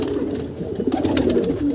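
A large pigeon coos close by in a low, throaty, rolling rhythm, the repeated calls running through the whole short stretch with no talk over them.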